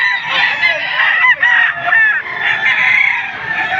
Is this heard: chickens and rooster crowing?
yes